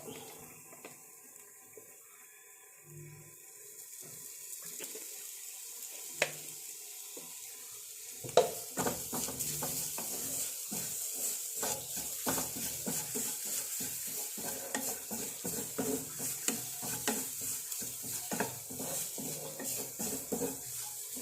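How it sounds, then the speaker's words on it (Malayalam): Grated coconut roasting in oil in a pan for a Kerala roasted-coconut chicken curry, stirred with soft scraping strokes over a quiet sizzle that grows fuller after the first few seconds, with no talking. "തേങ്ങ ഏകദേശം മൂത്ത് വരുന്നുണ്ട്."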